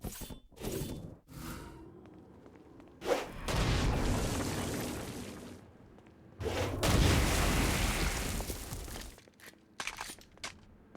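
Explosive blasts from combat in the video game Saints Row: Gat Out of Hell on Xbox One, with a few sharp bangs at first, then two long, loud rumbling booms that roll on for several seconds each.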